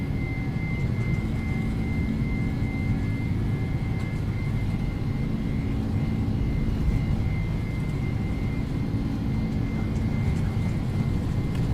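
Airbus A300 engines roaring steadily during a takeoff roll in the X-Plane 11 flight simulator, a constant loud drone with a tonal whine throughout and no speech.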